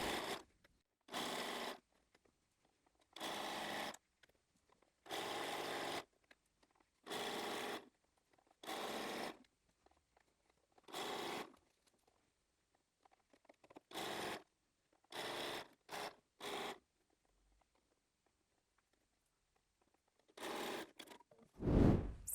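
Sewing machine stitching down the handles of a scrap-fabric shopping bag with wadding inside, running in short repeated bursts of a second or so separated by quiet pauses, close and fairly soft.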